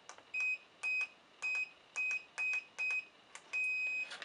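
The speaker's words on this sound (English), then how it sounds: "The second way is to use the keypad." Keypad of a Scyan X7 biometric fingerprint door lock beeping, seven short, clear electronic tones pressed one after another at a steady pace, close by and alone.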